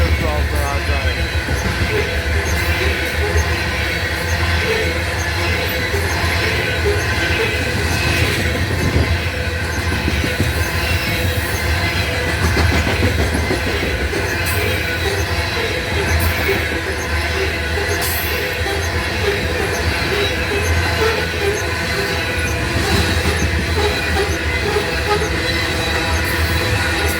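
A northbound CP freight train with a distributed power locomotive in the middle of the consist rolls past close by, a steady loud rumble of wheels and cars with occasional squeals lasting throughout.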